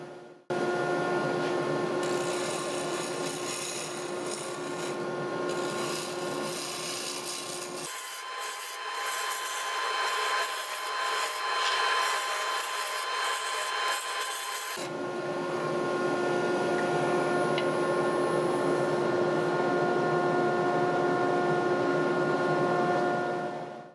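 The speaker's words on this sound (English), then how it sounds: "we'll start off with a rough and gouge, get this thing round" A roughing gouge cuts a wood blank round on a lathe for a duck call, a loud continuous rasping scrape with a steady motor hum underneath, shifting in tone partway through as the cut changes.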